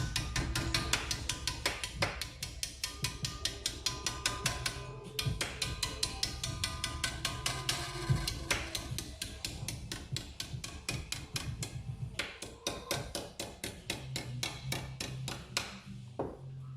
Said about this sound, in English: in the meantime, I use a vise and a hammer.